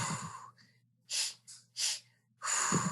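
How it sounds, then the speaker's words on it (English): A Lamaze breathing technique is demonstrated as a series of short, forceful breaths: a long exhale, then two sharp puffs in quick succession, and another long breath, each clear and close with brief silences between them. "I'm just going to give you another breathing technique that they do in Lamaze."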